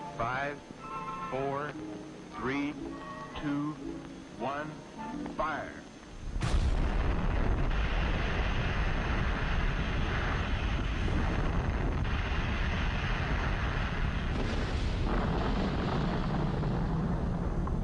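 An atomic bomb test explosion arrives as a sudden, loud, sustained roaring rumble that fills the remainder after someone speaks calmly beforehand, then continues unbroken and heavy.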